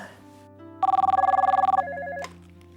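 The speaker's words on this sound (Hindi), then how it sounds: "जरा फोन उठा लो" A home telephone rings in one loud burst of rapid electronic trills, then a short tonal chime pattern, over a low background hum.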